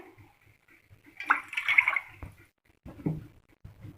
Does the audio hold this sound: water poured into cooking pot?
yes